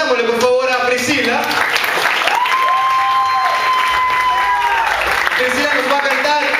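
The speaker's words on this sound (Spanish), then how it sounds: "Aplaudámosle, por favor, a Priscila" Audience applause at a Christian comedy show, a steady wash of clapping under a host talking and a long tonal whistle-like note in the middle.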